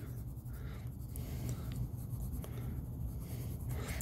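Marker strokes on a board while continental crust is drawn, soft scratchy squeaks coming in quick short bursts with brief pauses, close and quiet with no talking.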